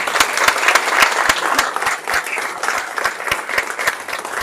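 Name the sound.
audience applause at a press conference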